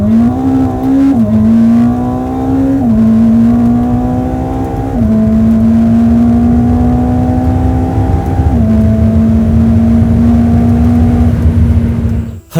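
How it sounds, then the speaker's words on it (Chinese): Ferrari SF90 Stradale hybrid supercar with a V8 engine, roaring loudly and close with a strong intake note, the revs climbing in steady pulls with brief dips at each gear change, running continuously with no talk. "给到你的引擎声浪是更加的暴力，然后它的 intake 的声音更加大声"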